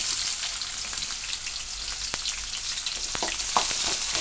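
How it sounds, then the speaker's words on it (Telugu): Onions and green chillies frying in oil in a pan, a continuous bright sizzle with occasional pops and a few light stirring clicks, close and steady, with no talking. "ఉల్లిపాయ పచ్చిమిర్చి ఇవి కూడా బ్రౌన్గా బ్రౌన్ కలర్లో వేగాలండి"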